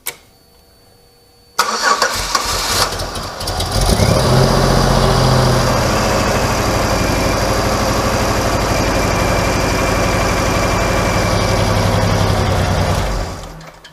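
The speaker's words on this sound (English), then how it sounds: "we're going to start the engine up" An engine cranks and catches after a short quiet moment, then settles into a steady, loud idle that runs on evenly until it cuts off near the end.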